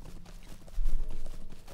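Horse hooves clop at a steady riding pace in the Lord of the Rings Online video game, a soft, continuous rhythmic thudding that swells slightly louder midway, with no talk over it.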